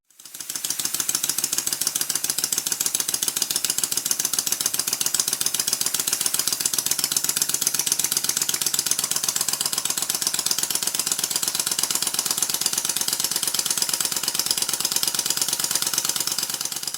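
A Stuart model steam engine pump runs on compressed air, chuffing at a rapid, steady rhythm throughout with a hissing exhaust, loud and close with no voices.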